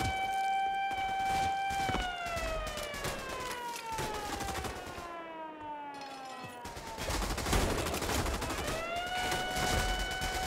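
Dense game gunfire in a World War II battle in Berlin, rapid bursts and volleys layered over wailing siren-like tones that rise and fall throughout, loud and continuous.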